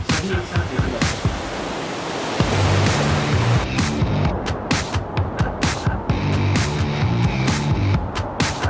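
Sea waves wash onto a rocky beach near an old lighthouse in Iceland, a loud, continuous roar of surf that swells and churns, with a fresh surge rolling in partway through.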